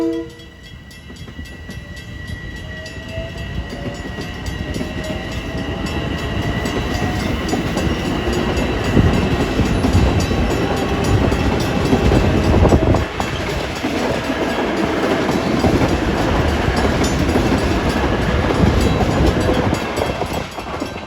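Diesel commuter train 2096 pulls through New Hyde Park station heading for Ronkonkoma, a horn sounding at the start as the engine's steady rumble and rolling cars grow loud and stay close.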